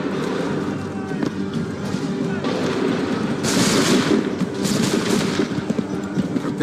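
Musket volley gunfire in the video game Assassin's Creed III, with bursts of shots crackling over a steady battlefield din and shouted commands between the volleys, which grow louder toward the middle.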